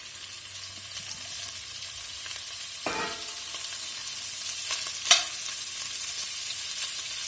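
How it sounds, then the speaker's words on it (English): Andouille sausage sizzles in olive oil in a pot with a constant bright hiss, broken by a couple of scraping stirs and a light clink, with no talking. "Now we're going to get a little olive oil in the pot. Add the andouille sausage."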